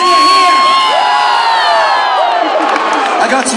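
Crowd at a WWE live event in Melbourne cheers and whoops loudly, rising to a peak and sustaining a dense roar with scattered individual shouts throughout.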